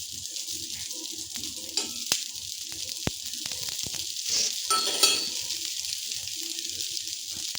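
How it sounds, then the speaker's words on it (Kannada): Dosa batter frying on a hot pan with oil drizzled over the top, a soft continuous sizzle with scattered crackles, light scraping taps and a brief swell of hissing partway through, no talking. "ಈ ರೀತಿ ಹಾಕ್ಕೊಂಡು ಎಣ್ಣೆ ಹಾಕ್ಕೋಬೇಕು ಮೇಲ್ಗಡೆ"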